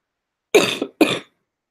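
Two sharp coughs close to the microphone, one right after the other, followed by silence.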